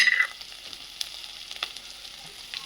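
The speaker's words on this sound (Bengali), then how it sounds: "এবার মশলাটাকে কষিয়ে নিই" Spices fry with jackfruit curry in a pan, a soft continuous sizzle with light scattered crackles and stirring clicks, close and alone without talk.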